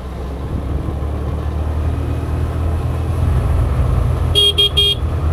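A low steady engine rumble, then a car horn gives three short honks near the end at a blind turn on a mountain road near Munnar.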